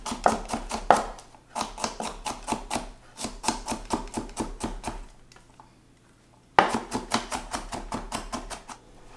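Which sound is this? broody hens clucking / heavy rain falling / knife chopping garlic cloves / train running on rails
knife chopping garlic cloves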